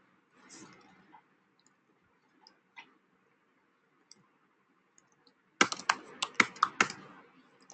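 Quick bursts of computer keyboard typing while writing Selenium WebDriver code, a clear run of close, crisp key clicks in the last two seconds after a few scattered taps.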